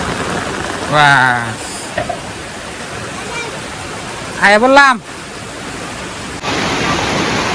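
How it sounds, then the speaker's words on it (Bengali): Heavy rain pours down outdoors in a steady, loud rush of noise that lasts throughout, while people talk briefly over it. "জোর আইছে বৃষ্টি"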